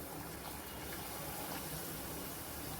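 Hot water pours steadily into a curry pot for a thapavadi and rassa meal, a continuous soft gushing wash, faint and close, with no talking.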